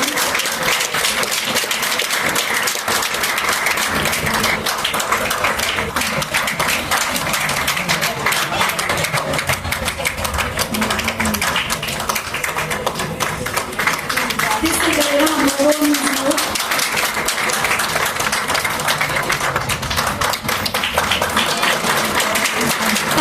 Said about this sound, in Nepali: ताली बजाउने जवानहरूको जोस